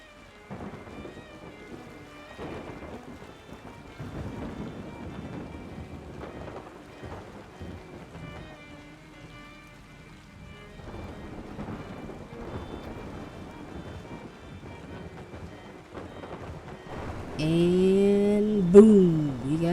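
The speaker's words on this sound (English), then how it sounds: "And boom, you got struck by lightning." Steady rain and rumbling thunder roll through a stormy scene in the video game Yonder: The Cloud Catcher Chronicles, building toward a sharp, loud crackling lightning strike near the end.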